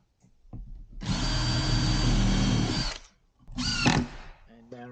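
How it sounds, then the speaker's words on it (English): A power drill whirs for about two seconds while pre-drilling and countersinking into 9mm laminate-faced plywood offcuts, then runs in a second shorter burst after a pause, with faint talk in the gaps. "I'm just pre-drilling, countersinking and screwing together these two bits of timber"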